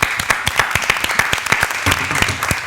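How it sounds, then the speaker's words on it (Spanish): A studio audience applauding a guest, Alejandra Ram, on a talk show, with sharp distinct claps in a quick uneven rhythm, close and clear, briefly thickening near the end, with no talk. "Un aplauso para Alejandra Ram."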